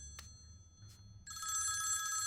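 A telephone rings indoors in a dubbed Hindi action-comedy film. A couple of faint clicks come first, then a loud, steady electronic ring starts partway through and keeps going.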